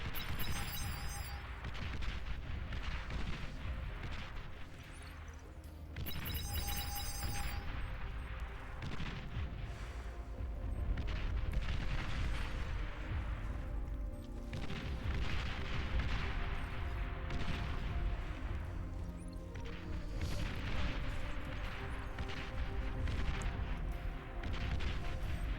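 Massed artillery pieces trading fire in the Beyond All Reason strategy game, a continuous rumbling barrage of distant booms and crackling impacts layered over each other for the full length, steady and fairly quiet.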